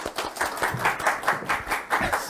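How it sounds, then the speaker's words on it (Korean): A talk-show audience greets a dental-school professor with rhythmic clapping, claps landing in a steady beat at moderate loudness. "자, 큰 박수로 맞아주십시오"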